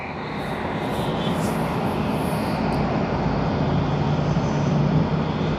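A jet arrives at Tokyo Haneda Airport with a broad, roaring engine rumble that holds steady and swells a little as it approaches. It carries a faint high whine and sounds fairly loud and sustained.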